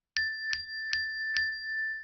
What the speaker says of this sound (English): The sound of the bell acts as a neutral stimulus, getting no response from the dog.